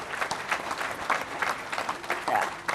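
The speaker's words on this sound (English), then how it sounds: "So a huge round of applause for the launch of the portal." A brief burst of audience applause greets the official launch of a portal at an inauguration event, dense rippling claps with crowd noise throughout.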